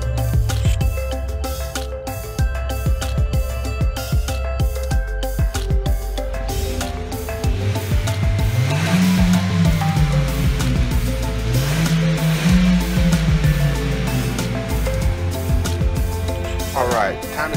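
A 2015 Hyundai Veloster with a 1.6 engine runs steadily up close, its note swelling in two distinct revs before settling, with a busy mechanical clatter layered over the drone.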